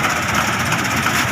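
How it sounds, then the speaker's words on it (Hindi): A Swaraj combine harvester engine runs steadily in a paddy field, a loud continuous mechanical drone with constant vibration and no pauses throughout. "ये है कंबाइन मशीन"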